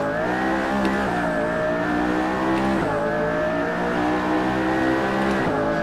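McLaren Senna at full race pace around Spa in Assetto Corsa, its twin-clutch engine holding a loud, steady high-revving drone with brief dips at quick upshifts, sounding alone without talk.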